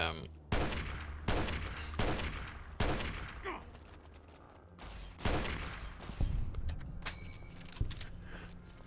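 Gunfire in the video game Fallout New Vegas, with Rex among the shooters: a string of sharp, loud shots spaced roughly every second, some rapid bursts, over rumbling background action.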